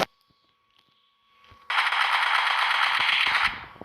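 Sustained burst of automatic gunfire in a first-person shooter game, loud and dense for about two seconds after a quieter lead-in with a faint tone, no talk over it.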